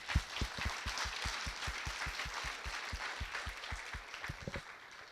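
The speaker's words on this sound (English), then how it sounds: "So I'd like to ask you to give them a round of applause right now." Audience applause at a public welcome event in Montenegro, a dense, steady wash of many hands clapping at moderate distance, sustained without letup for about five seconds with no talk over it.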